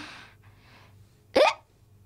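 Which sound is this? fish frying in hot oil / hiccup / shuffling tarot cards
hiccup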